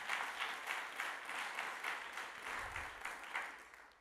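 Faint audience applause in a church hall, soft clapping swelling and easing in a rhythmic pattern over several seconds, distant and fairly quiet.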